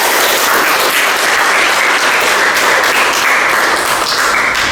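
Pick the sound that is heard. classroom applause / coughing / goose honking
classroom applause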